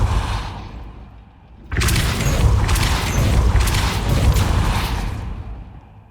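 Depulso spell cast in Hogwarts Legacy, a soft rising rush then a sudden loud burst of force with crashing, rumbling debris that sustains for several seconds before fading.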